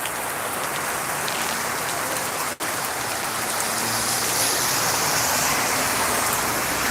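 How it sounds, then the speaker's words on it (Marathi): Dense, steady hiss of heavy rain pouring down close by, continuous and loud, with a brief dip partway through. "आपण बघतोय चांगलाच पाऊस आहे"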